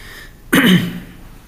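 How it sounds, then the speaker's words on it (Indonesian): A single short, sharp cough, loud and close, rising out of quiet room tone and fading quickly. "Maaf agak batuk"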